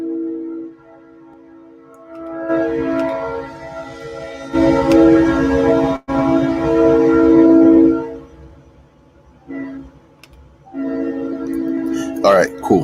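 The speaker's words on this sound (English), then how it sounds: "Trains popping by." A train passes nearby, its horn sounding in long sustained blasts with pauses between, loud and close, with a brief gap and a clattering burst near the end.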